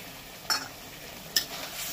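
Cauliflower and peas frying in oil in a pan: a steady, soft sizzling hiss broken by two sharp scrapes of a stirring spoon about a second apart, close by and without talking.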